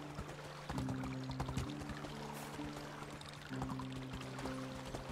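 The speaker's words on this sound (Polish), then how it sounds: "Bo tutaj wodospad jest" A waterfall in the video game Medieval Dynasty gives a steady, continuous rush of water under sustained tonal game music, filling the whole stretch at moderate loudness without letup.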